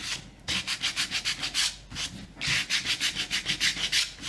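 Electric sander working across a painted wooden sign, its corner edge passing over lettering in two bursts of quick rhythmic rasping strokes separated by a brief pause, close and fairly quiet with no talk.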